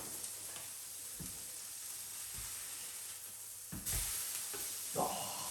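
Homemade vegetable beefburgers sizzle quietly and steadily in a pan after being flipped, with a few soft knocks and a brief louder spatter near the end; no one speaks.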